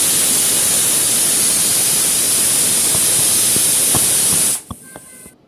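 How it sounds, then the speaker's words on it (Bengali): A pressure cooker cooking khichuri vents steam in a loud, steady hiss for about four and a half seconds, then cuts off abruptly, leaving a few faint clicks. "তো আমি প্রেসার কুকারে 3টি সিটি দিয়ে নিয়েছি।"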